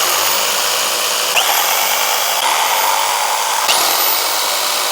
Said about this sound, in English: Got to sand it a little bit